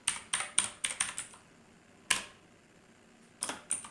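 Java code being typed on a computer keyboard: bursts of crisp key clicks, a rapid run of strokes, a pause, a single stroke, then a few more, close and alone with no talk.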